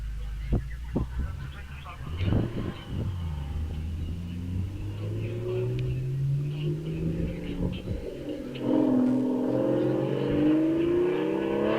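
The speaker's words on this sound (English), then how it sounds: "so we can listen to that exhaust note" A vintage sports car's V12 engine idles and then revs several times at a hillclimb, the deep exhaust note rising and falling, with a louder burst of revving near the end.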